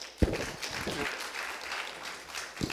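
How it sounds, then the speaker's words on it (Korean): Audience at a game industry conference in Korea claps for an introduced speaker, a short, moderate wash of applause with a few sharper nearby claps and some room sound mixed in. "박수 한번 크게 보내주시죠"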